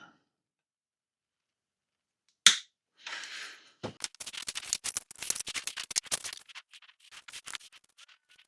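A single sharp snip as wire cutters cut a ground wire short during a relay installation, followed by rustling and scraping handling noises that come and go in quick, irregular bursts.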